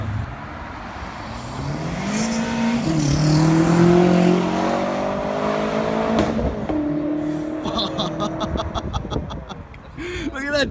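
BMW M6 Gran Coupe fitted with an MSR intake and Turner straight pipes revs hard nearby, pitch sweeping up and dropping in loud blips, then fading to rattling bursts, with people chatting around it.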